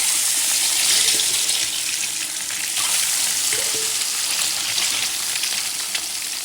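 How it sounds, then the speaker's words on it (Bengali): Eggs fry in hot oil in a pan with a loud, steady, hissing sizzle that holds evenly from start to finish, close and without talk. "দিয়ে দিলাম তেল, ডিম ভেজে নিব।"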